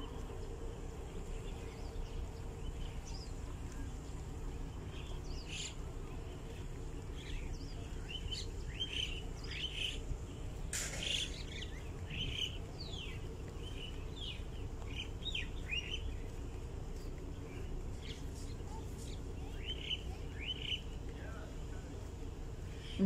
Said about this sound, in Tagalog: Oh, ibon o.